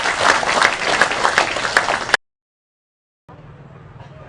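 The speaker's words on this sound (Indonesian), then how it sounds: "silakan musik, tepuk tangan" An audience claps at a religious gathering in Indonesia, a dense burst of applause that stops abruptly, followed by silence and then a softer murmur of background noise.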